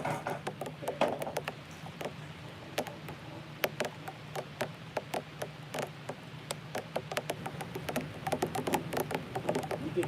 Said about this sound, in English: You can hear the rain probably hitting the camera, hitting around the camera on the box.